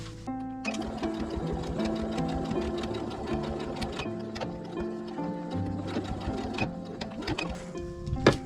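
A sewing machine stitches fabric for a small box made from leftover cloth, running in a steady, close, mechanical rattle for several seconds with brief changes in pace.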